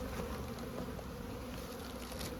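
Honeybees at a hive holding a few partial frames at the end of March, a dense steady buzz with no pauses, close and continuous with no voices.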